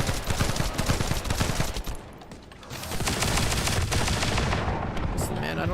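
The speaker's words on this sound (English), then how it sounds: "I have to shoot this guy." Heavy automatic gunfire in The First Descendant, dense close rattling bursts with a brief lull midway before the shooting resumes just as loud, with some speech-like sound underneath.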